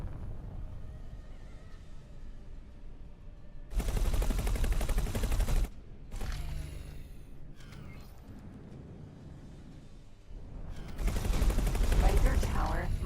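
Ship-mounted guns strafing in the space game X4: Foundations, in two long, dense bursts of rapid gunfire with quieter engine and effects noise between them, no voices.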